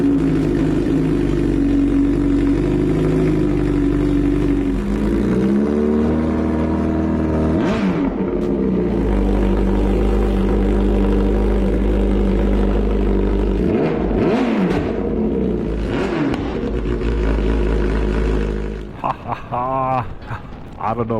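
A Bimota motorcycle engine runs close by with a deep steady idle, rising into several sharp revs with falling whines in between, then settling and cutting out near the end.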